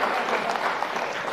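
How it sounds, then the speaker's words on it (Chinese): A theater audience at a comedy crosstalk show claps together in dense, continuous applause, steady and fairly loud throughout the short burst. "你看，鼓掌的都是了解三哥的人"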